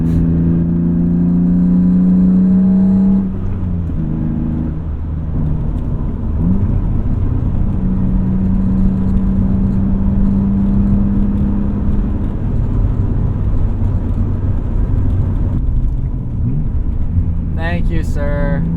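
A car engine pulls strongly under acceleration, heard from inside the car as a loud, droning rev that climbs and then settles into a steady cruise, with a brief voice near the end.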